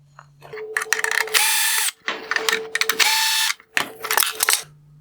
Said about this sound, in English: Next, I will remove the 2 Phillips head screws holding on this plastic shroud.